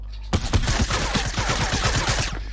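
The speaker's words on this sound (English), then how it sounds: "I hear people firing at me, that's annoying." Rapid gunfire in Fortnite rattles out in a dense, close burst of many shots for about two seconds, then stops abruptly.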